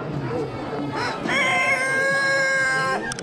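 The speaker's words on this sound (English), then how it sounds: "Like that was a lame crow, dude." A rooster at an Amish animal auction gives one weak, thin, drawn-out crow lasting about two seconds, rising out of a noisy, crowded background of chatter and other farm animals.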